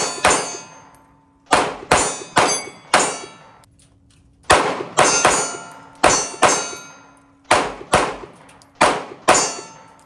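A Smith & Wesson M&P 2.0 pistol fires one-handed in quick pairs, each sharp report followed by the bright ring of struck steel targets, about a dozen shots in clustered bursts with short pauses between.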